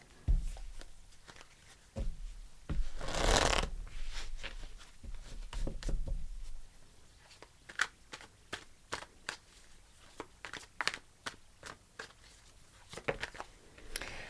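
Tarot cards being shuffled and drawn up close, with a brief riffle burst early on and then a run of soft, irregular flicks and taps as cards are handled and pulled, fairly quiet and with no talk.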